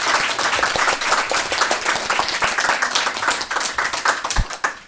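Audience applause for a graduating promotion at a ceremony: brisk, dense clapping from a room full of people, steady and close, with individual claps standing out and no speech.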